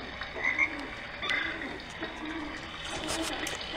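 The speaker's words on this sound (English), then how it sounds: "This is the one with frogs." Recorded frog croaks play from the small speaker of a Fisher-Price Pearl Chandelier baby toy, a few short chirping calls over a soft bed of trickling water and rain.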